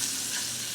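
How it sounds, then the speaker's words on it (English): Smoked sausage frying in olive oil in a pan, a bright, steady hiss and crackle with light stirring scrapes, close and alone for under a second. "I have olive oil that I'm frying this in"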